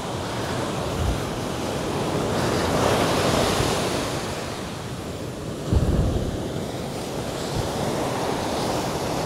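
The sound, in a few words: strong sea waves at a beach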